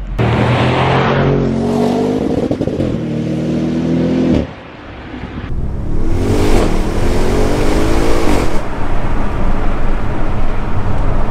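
A 605 PS Audi RS6 Performance accelerates hard through the gears on the road, its engine note rising in repeated sweeps and briefly dropping between shifts, loud and close.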